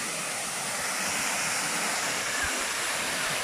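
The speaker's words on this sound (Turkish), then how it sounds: "yapay bir şelale var" An artificial waterfall by Seyhan dam lake near Adana sends up a steady, even rush of falling water, constant throughout with no voices.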